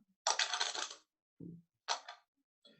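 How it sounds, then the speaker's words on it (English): Index cards shuffle in short papery bursts: one long riffle, a soft thump, then a shorter riffle and a faint trailing flutter, close and quiet with silence between, no voices. "Let me shuffle up some right now."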